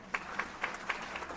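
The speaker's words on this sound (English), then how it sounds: "let's have a big round of applause." Quiet audience applause at a university convocation ceremony, a thin patter of claps with a few sharper individual hits, distant and brief.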